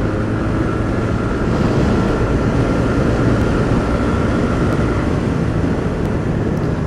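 Steady, loud, broadband roar of a TVS Ntorq XT scooter on Ralco tires running flat out at full throttle, with wind rush and road noise dominating continuously, no talking.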